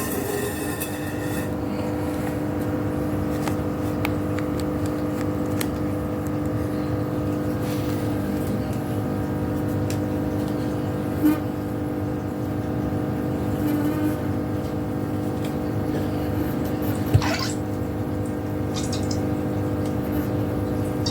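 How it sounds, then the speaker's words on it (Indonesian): A reef aquarium's power head and wave maker pumps run in a steady, even drone that stays constant for about twenty seconds, close and moderately loud, with no voices over it. "Nah oke, power head udah nyala."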